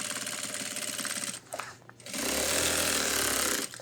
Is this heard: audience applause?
no